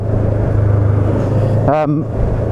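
Voge 500AC parallel-twin motorcycle engine idling with a steady low rumble throughout, then a short blip of revs near the end that rises and falls before settling back to idle.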